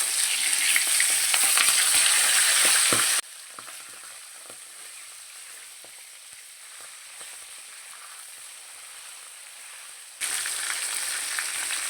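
Katla fish pieces fry in hot oil with a loud, dense, close sizzle. It drops to a much quieter hiss for several seconds, then surges back to full crackle. No voices.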